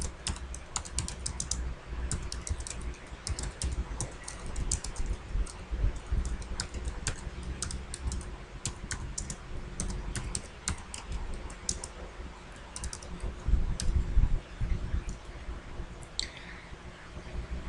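Steady typing on a computer keyboard as text is entered into Microsoft Office Word 2007, with rapid irregular key clicks running throughout and a slightly denser flurry near the end.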